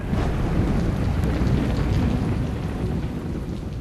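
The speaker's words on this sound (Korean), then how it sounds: "괌에는 하루 종일 비가 내리고 있었습니다." Steady rain pours down on Guam during a stormy August day, a dense, continuous hiss of falling water with deep rumbling underneath and a gust of wind noise, constant and fairly loud throughout.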